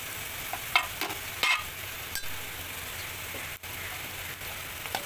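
Chopped onion fries with ginger and garlic in a pan, a steady close sizzle with a few scraping stirs of a spoon and no talking.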